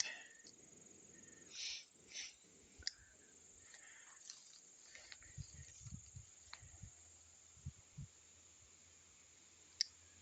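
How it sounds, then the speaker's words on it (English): Pruning shears snip juniper branches in a quiet outdoor setting, a series of short, sharp, close clicks spaced irregularly, with soft rustling and a faint low hum between them. "Couple more snips."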